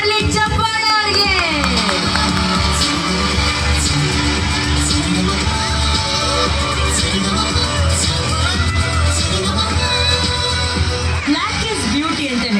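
A large crowd applauds and cheers loudly and continuously for an instrumental band at a Kannada film music event, with whoops and shouts over a dense, steady roar.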